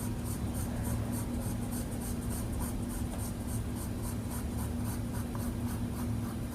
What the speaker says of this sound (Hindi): पतली पतली लाइंस को क्रिएट करना है आपको शेडिंग करने के लिए।